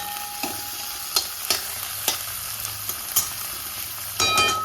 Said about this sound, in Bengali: এবারে আমি উচ্ছেটাও ভেজে নিচ্ছি